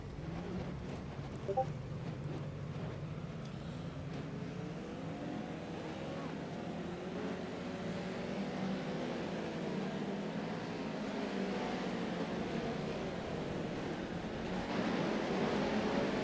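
Pro 4 race truck engines in iRacing at a short dirt course, a pack of engines droning and rising in pitch together, moderately loud and growing toward the end.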